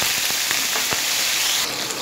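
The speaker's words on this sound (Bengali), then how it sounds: "কালো জিরা কাঁচা লঙ্কা ফ্রাই হয়ে সেন্ট বেরাচ্ছে" Nigella seeds and slit green chilies fry in hot oil with a dense, steady hiss and a few sharp pops, close and fairly loud throughout the short stretch.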